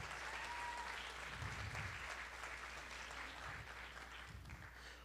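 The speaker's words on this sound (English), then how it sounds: "Big round of applause to the guru as well." A crowd at a Bharatanatyam arangetram claps for the dance guru, a continuous wash of applause heard from a distance and fairly faint, steady throughout with low rumbles underneath.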